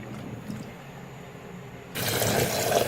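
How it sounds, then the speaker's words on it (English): Ackee is rinsed in water in a kitchen, a soft watery trickle that jumps into a louder rush of running water partway through, close and steady. "I'm just giving it another rinse."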